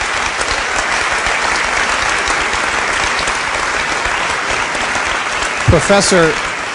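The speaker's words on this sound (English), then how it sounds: "That's worth a round of applause, absolutely." Sustained, loud applause from an audience at a University of Geneva panel on a green future, a dense continuous roar of many hands clapping, with a voice breaking in near the end.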